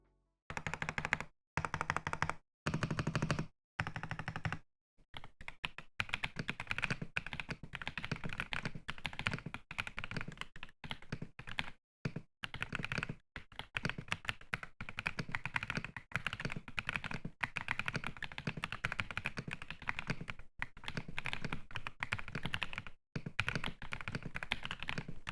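Womier X98 mechanical keyboard being typed on up close, with a dense, steady stream of sharp, clacky keystrokes, a few short bursts at the start and then continuous typing alone.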